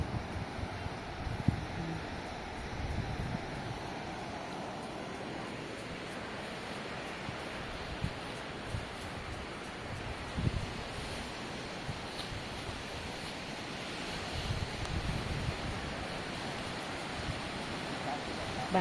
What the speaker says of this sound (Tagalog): Grabe yung dagat, no?